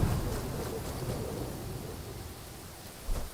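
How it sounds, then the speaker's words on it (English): Rain and rolling thunder in the survival video game Enshrouded, a steady dense wash of rainfall with low rumbling throughout and a brief heavier thump near the end, with no voices. "It's a bit rainy, sad, we don't really see too well."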